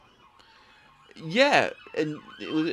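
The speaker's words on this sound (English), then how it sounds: "We've got a parade of police cars racing towards something happening here." Police car sirens wail in the distance, rising and falling as a line of police cars passes, with a voice speaking briefly over the noise.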